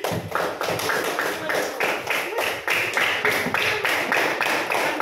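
Schoolchildren in a classroom applaud with steady, rhythmic clapping that continues for several seconds, with some voices mixed in.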